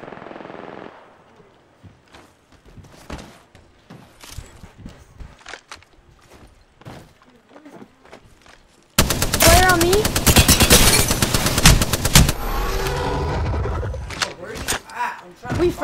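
Apex Legends gunfire: first sparse shots and footsteps under chatter, then a dense, loud burst of rapid automatic fire for the last several seconds, with players talking throughout.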